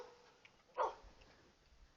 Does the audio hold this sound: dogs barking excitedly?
yes